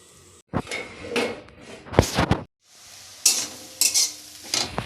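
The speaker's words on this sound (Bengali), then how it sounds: "শাকটা নেড়ে দেখি।" A spatula stirs leafy greens frying in a pan. Bursts of sizzling come with scraping and clinking against the metal, separated by short pauses, all close and fairly loud; no speech.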